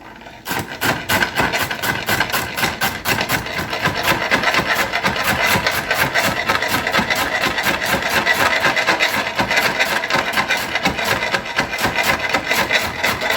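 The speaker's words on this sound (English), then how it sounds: "Boy, that's a noisy cutting board." Rapid, steady knife chops through celery on a wooden cutting board, a dense rhythmic tapping that continues loudly for the whole stretch.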